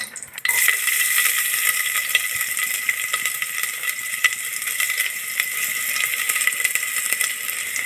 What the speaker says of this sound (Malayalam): എണ്ണ ചൂടായിട്ടുണ്ട് നമുക്ക് ഇതിലേക്ക് ഇതാ ഒരു ഉള്ളി ഇഞ്ഞത് നമുക്ക് ചേർത്ത് കൊടുക്കാം